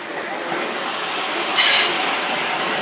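A Class 444 passenger train bound from Poole to London Waterloo passes close by at Clapham Junction, a loud continuous rushing roar with a brief high wheel squeal partway through.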